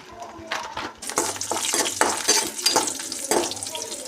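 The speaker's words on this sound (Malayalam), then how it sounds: "അപ്പോൾ മുന്തിരിയൊക്കെ ഒന്ന് ഫ്രൈ ചെയ്തെടുക്കാം കേട്ടോ." Raisins fry in a pan of hot fat for a Kerala-style chicken biryani, with close sizzling and crackling and a few stirring scrapes of the spoon. No one speaks.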